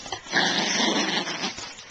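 A dog growling fiercely during rough play with hands, a continuous snarling rumble lasting under two seconds, close and fairly loud with no talk over it.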